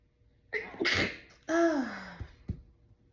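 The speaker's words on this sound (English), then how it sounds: "I have to sneeze. Like I have to sneeze." A single close sneeze with a sharp intake of breath before it, followed by a couple of small sniffs in a quiet room.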